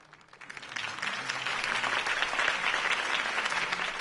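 Crowd applause swells in after a quiet start and holds steady, a dense clapping wash from many hands, moderately distant.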